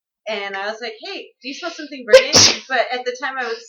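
A single sharp sneeze bursts out midway through a woman's continuous chatty speech, loud and close, with talking resuming right after.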